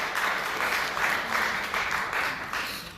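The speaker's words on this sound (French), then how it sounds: "je vous demande d'applaudir pour sa présence" Sustained crowd applause from a press-conference audience honouring French boxer Cédric Vitu, a steady dense wash of many hands clapping at close range with no speech over it.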